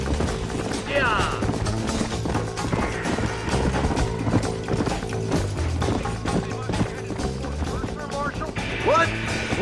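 Rapid hoofbeats of a galloping horse in the video game Red Dead Redemption pound steadily throughout, with voices talking over the rhythmic clatter.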